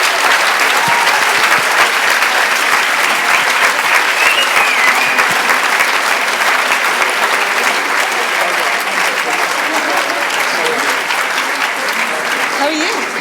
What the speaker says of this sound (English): can we have a huge round of applause for Luke Cooper, for all of his hard work